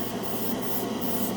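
Cheap craft-store acrylic paint hisses from a budget airbrush in a steady, even spray, close and continuous with no talking.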